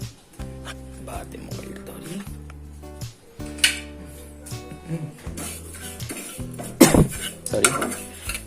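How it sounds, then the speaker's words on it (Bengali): Spices are dry-roasted in a pan to keep them from burning, with repeated metal scrapes, clinks and knocks of a spoon against the pan. A voice talks intermittently over them at close range. "এমন করে ভাজবে যাতে জিনিসটা পুড়ে না যায়"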